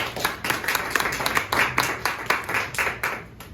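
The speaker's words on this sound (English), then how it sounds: "Round of applause for Napoleon, everyone" A small audience at a mentalism stage show claps for a volunteer joining the performer, with a loose cluster of distinct handclaps rising and fading unevenly, fairly close and moderately loud.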